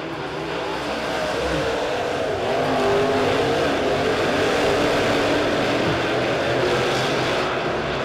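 Modified race cars at Springfield Raceway, a dirt oval, roar off turn four during a heat race, engines loud and continuous, swelling as the pack passes close by, with no talk.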